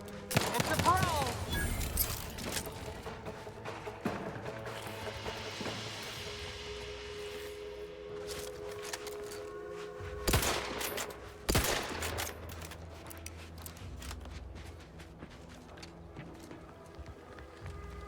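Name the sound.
shotgun fire in the video game The Outer Worlds 2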